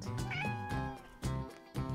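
A cat meows close and clearly in several short, rising calls over about two seconds, with no talking.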